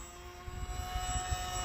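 HobbyZone Aeroscout S 1.1m RC airplane in flight, its electric motor giving a steady whining drone with a faint high tone, close and continuous outdoors.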